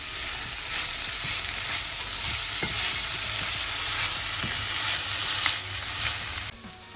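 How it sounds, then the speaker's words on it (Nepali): Chicken gizzard and green soybeans fry in a pan, a steady close sizzle broken by occasional scrapes and stirs of a utensil, with no voices over it. "हरियो भटमास राखेपछि यसरी 4-5 मिनेटसम्म यसलाई भुट्नुपर्छ।"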